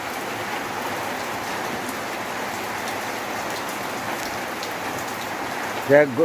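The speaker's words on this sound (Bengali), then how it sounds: "এখন বৃষ্টি আসছে" Steady morning rain pours down in Netrokona, Bangladesh, a dense even hiss of drops hitting surfaces throughout, with a brief faint voice near the very end.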